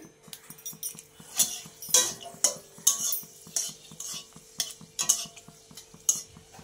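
Dried red chili crackling in hot oil in a wok, a run of sharp metallic taps and scrapes on the pan over a faint steady hum, fairly close and without talk.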